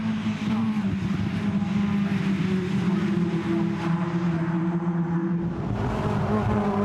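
Caterham race cars at Brands Hatch climbing onto the Grand Prix circuit drone continuously with several overlapping engine notes, loud and sustained throughout.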